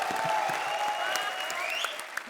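Dense applause from an audience fills the whole stretch, steady and loud, fading slightly toward the end, with a few whistles mixed in.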